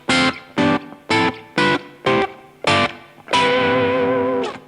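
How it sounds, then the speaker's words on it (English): Electric guitar strums a sequence of seventh chords up the whole scale, six short, evenly spaced stabs followed by a final chord left ringing, with a lightly effected, slightly overdriven tone and no talking. "When you do all the chords in the entire scale, it'll sound like this."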